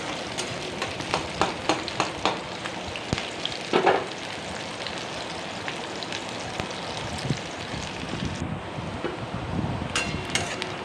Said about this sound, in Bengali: তো আমি এখন এটিকে ফ্রাই করতে থাকবো। এখন আমি নাড়াচাড়া করতে থাকবো,